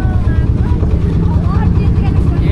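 A motorboat's engine drones steadily and close on the Padma river, a low continuous rumble with faint whine and water rush, under some indistinct chatter.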